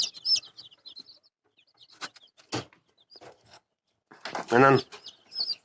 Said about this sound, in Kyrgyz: Бул ошо кадимки кара тоогуктун жөжөлөрү.